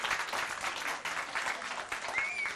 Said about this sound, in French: Applaudissez très très fort pour vous les enfants.